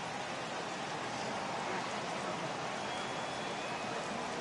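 Steady rain pours onto a baseball field in the video game MLB 18, a dense continuous hiss that holds even and unbroken, with no other sounds standing out.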